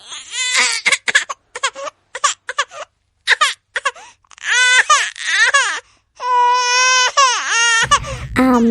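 A baby cries loudly and close by in a home, broken sobs and whimpers building into a sustained wail, with a voice briefly at the end.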